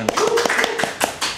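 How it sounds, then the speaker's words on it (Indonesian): Applause from an audience at an Indonesian talk on managing employees: a short burst of hand claps with sharp broadband transients, moderately loud, lasting about a second. "Luar biasa tepuk tangan."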